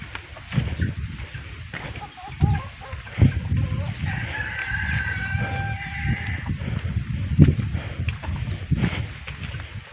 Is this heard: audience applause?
no